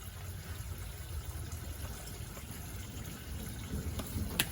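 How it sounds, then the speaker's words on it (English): Water steadily fills a barrel used as a test tank for a 1965 75 hp Evinrude outboard motor, a continuous low rushing gush running at an even level throughout, with a small splash near the end and no talk. "we're filling it up with water, the barrel"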